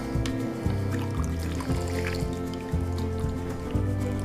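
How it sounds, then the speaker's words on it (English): A cocktail pours from a shaker into a glass, a steady liquid trickle and dribble running for a few seconds over rhythmic background music. "give it a good pour"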